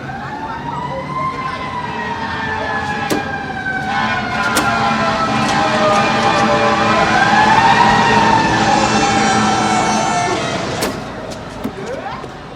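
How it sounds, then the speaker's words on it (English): A wailing police siren from the film They Live rises and falls in long sweeps, loud and continuous over a rumbling background, with a few sharp clanks and knocks scattered through. "And we get police siren punctuation again when Nada is trying to get a replacement pai"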